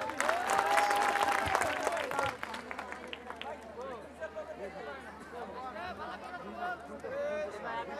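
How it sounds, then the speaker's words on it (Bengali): A picnic audience applauds a speaker, Standard Group's deputy managing director, with a dense burst of clapping that stops after about two seconds, leaving crowd chatter and murmuring voices in the background. "হাসনাত মুশাররফ স্যারের জন্য করতালি"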